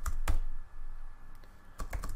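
Computer keyboard being typed on, quick clusters of close, crisp key clicks with a quiet gap between bursts, no voices.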